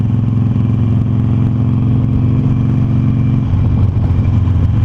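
Harley-Davidson Sportster Roadster motorcycle riding, a steady low engine drone with loud rumbling throughout that shifts pitch slightly near the end, no talking.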